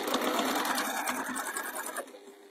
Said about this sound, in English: six stitches, and I've gone reverse and back over again, just so that I really reinforce that corner